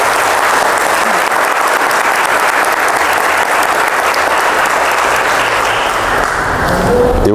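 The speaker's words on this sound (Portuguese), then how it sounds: "eu queria uma salva de palmas" Loud, sustained applause sweeps through a live audience at a talk, many hands clapping in a thick, even roar that barely eases across the whole stretch.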